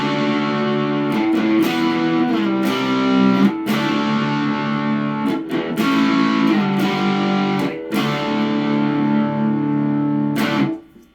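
Squier Classic Vibe 50's Stratocaster played through distortion, ringing individual notes one after another with sharp pick attacks and sustained tails, loud and close, ending with a sudden cutoff.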